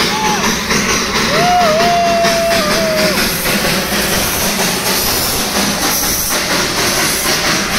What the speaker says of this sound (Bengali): যাওয়ার পথেই দেখা মিলল দার্জিলিং হেরিটেজ টয় ট্রেনের।